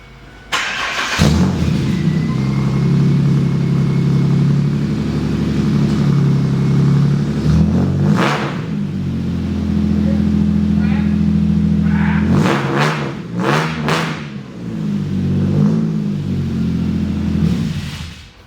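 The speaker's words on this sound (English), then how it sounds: "Let's see what it sounds like with the brand new exhaust." A Polaris Ranger UTV fitted with a brand new exhaust idles and revs in several loud bursts, a deep rumble that rises, drops back and rises again across the run, with no talking over it.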